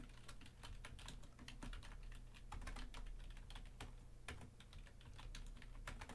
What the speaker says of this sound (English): I can't even type right now.